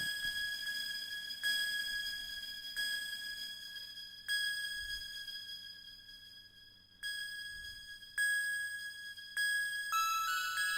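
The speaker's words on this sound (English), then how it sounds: "A lot of reverb on this one." Bright synth bell tones strike every second or two, each ringing out into a long, washy reverberant tail, soft and alone.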